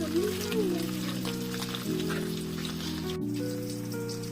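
Silver baby fish fry in oil with a continuous crackling sizzle like rain on a surface, heard beneath a steady droning musical background.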